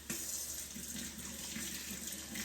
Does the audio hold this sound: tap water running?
yes